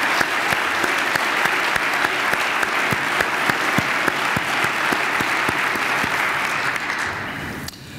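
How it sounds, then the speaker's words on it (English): A conference audience at a professional academy's annual meeting opening session gives a warm round of applause: a dense, sustained wash of many hands clapping, steady for around seven seconds before thinning and fading out. "Please join me in giving them a warm round of applause"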